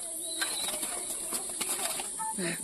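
Pigeon flapping its wings while held, with soft bursts of feather flutter and light coos and bird calls over a steady background hiss.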